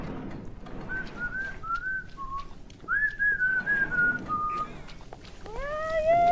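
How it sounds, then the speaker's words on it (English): A character whistling a tune in the video game Bioshock, a clear melodic series of held whistled notes over room ambience, ending with a rising swoop. "I hear you whistling upstairs."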